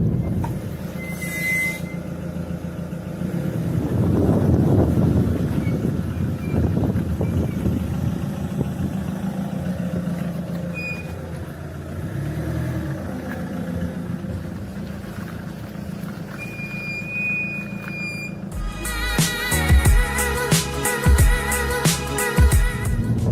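Rear brake calipers on an Alfa Romeo 156 give thin, high squeals in short bursts over a low rolling rumble, followed near the end by a louder, dense metallic screech.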